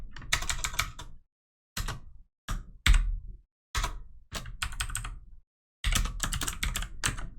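Code being typed on a computer keyboard: rapid bursts of close, crisp key clicks separated by short pauses, with no voices.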